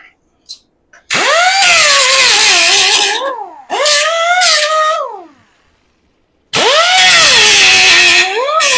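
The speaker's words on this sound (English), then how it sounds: "It's not really a die grinder, but anyway, my little angle grinder." A small angle grinder cleans up a weld on a suspension part. It gives three loud bursts of high, whining grinding, and its pitch rises and sags under load, with short pauses between passes.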